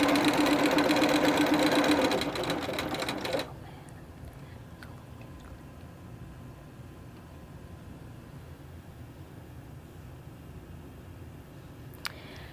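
A sewing machine stitches half-square triangle quilt pieces together in one steady run of about three seconds, then stops, leaving quiet room tone with a small click later.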